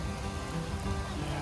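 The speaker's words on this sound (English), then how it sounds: "So you can see it's raining." Rain falling steadily on a house building site with walls up, a continuous close patter and hiss with no voices.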